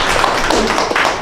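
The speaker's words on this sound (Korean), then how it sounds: "여러분 박수 한번 쳐주세요." A short burst of audience clapping at an artist talk during a digital image art exhibition, dense and steady for about a second, loud and close.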